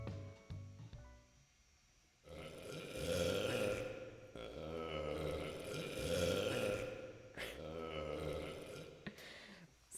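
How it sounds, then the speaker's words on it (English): A burp recording plays back on a loop during a music stream, long belching gurgles that repeat in about three loud sustained passes after a quieter opening. "my burp loop was still going"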